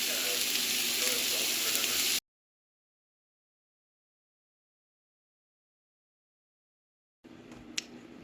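Steak, peppers and onions frying in a pan, a steady close sizzle that cuts out to several seconds of silence and then resumes with a small pop.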